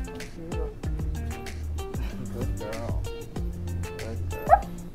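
A woman playing as a puppy imitates a dog with her voice, giving a quick run of yips and small barks that slide into whimpering whines, close and steady throughout, with one sharper high yelp near the end.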